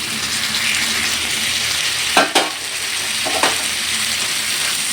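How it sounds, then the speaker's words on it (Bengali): Marinated chicken is tipped into spice paste frying in oil, over a loud, continuous sizzle with a few sharp clunks and scrapes of stirring in the pan. "এখন ম্যারিনেট করা চিকেনটা দিয়ে দিচ্ছি।"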